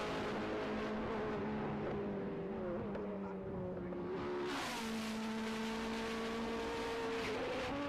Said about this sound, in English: Across the line then goes John Cleland in that number 98 Vauxhall Vectra